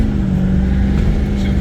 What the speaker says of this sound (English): I'm going to give him a 0 to 60 run here